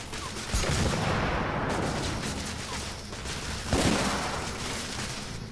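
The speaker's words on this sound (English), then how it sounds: "Throwing frag!" Gunfire crackles steadily in a tunnel firefight in The Order: 1886, with two heavier bursts suggesting a thrown frag grenade going off amid the shooting, loud and continuous.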